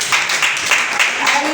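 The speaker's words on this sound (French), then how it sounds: "Acclame le Seigneur pour cela" A church congregation claps and applauds during a worship service, a short burst of steady, fairly loud clapping with voices mixed in.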